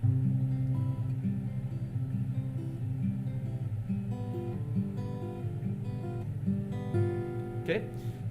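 Guitar plays a song's chorus, a steady strummed and picked melody with clear repeating phrases, moderately loud and alone with no talking.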